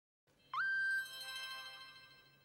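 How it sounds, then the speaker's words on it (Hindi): A single electronic alarm tone rises in pitch and holds steady as a shrill beep indoors, then fades into a lingering ringing hum, fairly quiet and with no voices over it. "वो मेरे अलार्म क्लॉक की आवाज है।"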